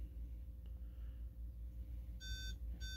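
An RC truck paired with a FlySky Noble transmitter gives a short run of bright electronic beeps near the end, two quick bursts over a low steady background hum.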